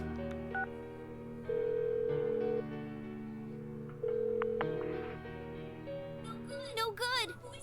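Phone keypad tones beep in a short sequence in Persona 4 Golden, followed by a ringing call tone and a brief voice near the end, all with quiet game music underneath.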